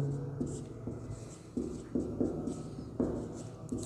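Someone writes on paper close by during a Class 10 maths lesson, with the pen scratching in short strokes and a few sharper taps.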